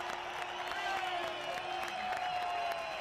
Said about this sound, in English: listen to the roar from the Australian crowd for Casey Stoner.